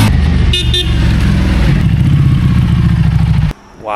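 A 2004 Harley-Davidson Softail Deuce engine roars close and loud at high revs for about three and a half seconds, a dense throbbing exhaust note that cuts off abruptly into quieter background.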